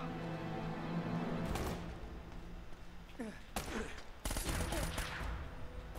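Gunfire in the video game Uncharted: Drake's Fortune, several sharp shots and short bursts cracking out in irregular clusters over a constant background, fairly loud, with someone talking in between.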